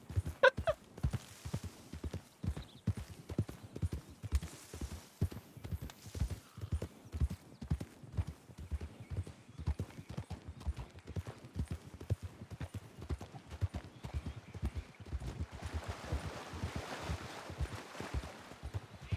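Horse hooves clip-clop in a steady walking rhythm on a road in the Western game Red Dead RP, continuous and fairly quiet, with a brief whinny near the start.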